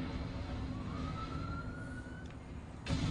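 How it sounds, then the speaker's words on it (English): A siren wails in the Medal of Honor multiplayer game, a rising tone sliding slowly upward over a steady rumble of game noise, moderately loud, with a louder burst of noise near the end. "Is that siren in the game,"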